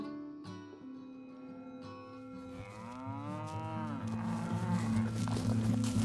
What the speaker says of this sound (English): keeping the cattle moving